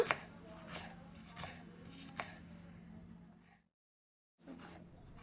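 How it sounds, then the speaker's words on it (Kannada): A few sharp knife strikes chopping onions on a cutting board, spaced irregularly over a quiet background hum, then a short silence before more soft cutting. "ಮೊದಲಿಗೆ ಆನಿಯನ್ ಚಾಪ್ ಮಾಡ್ಕೊಳ್ಳೋಣ."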